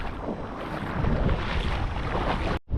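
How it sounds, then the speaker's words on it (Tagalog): Gusty wind buffets the microphone in a steady, close roar, with a brief sudden dropout just before the end. "May hangin na."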